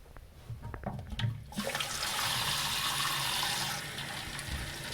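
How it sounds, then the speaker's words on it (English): A toilet cistern tank refills after the water supply is turned back on, starting with a few knocks and clunks before a steady, rushing hiss of water flows in close by. "you can hear that's now filling up a lot quicker and a lot better"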